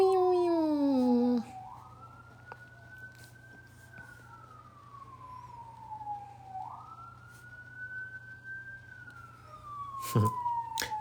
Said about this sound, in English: It's like ambulance thing going on.